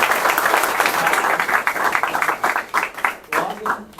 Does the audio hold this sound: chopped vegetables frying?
no